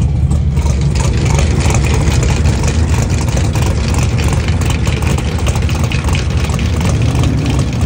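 A Pontiac Firebird sits idling at a drag strip, its engine a loud, close, steady rumble with a lumpy low pulse that holds throughout without pause or talking.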